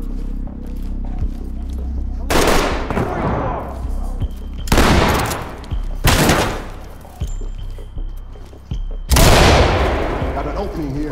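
Loud shotgun blasts ring out in the tactical shooter Ready Or Not, four heavy booming shots spaced a couple of seconds apart, each with a long decaying tail, while voices talk under the gunfire.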